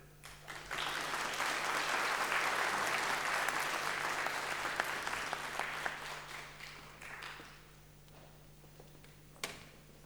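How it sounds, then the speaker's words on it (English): Applause from the audience at a university public lecture, a dense wash of many hands clapping that holds steady for most of the time and then thins and fades toward the end. "A round of applause once again."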